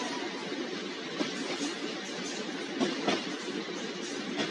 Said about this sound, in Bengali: বাহ, ট্রেনটি তো একদম সঠিক সময়ে চলে এসেছে।